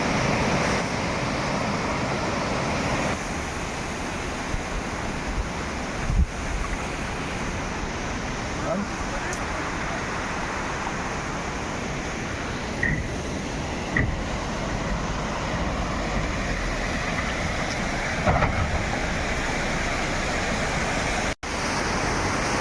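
A constant roaring rush of Kanda Waterfall in snowy Lachung, North Sikkim, fills the scene, broad and steady, with faint wind buffeting and a few small knocks.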